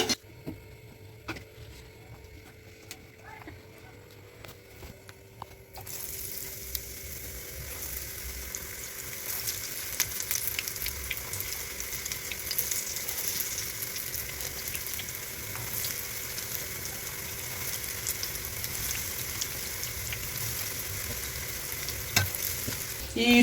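Capsicum bajji, battered peppers, sizzling in hot oil: a steady crackling fry that starts quieter and swells louder after a few seconds, with occasional stirring clinks, no voices.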